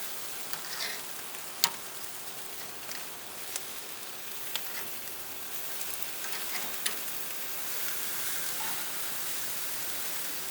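Big cuts of picanha sizzle over an open backyard fire grill, a steady crackling hiss with occasional sharper pops and snaps, close and moderately loud with no talking.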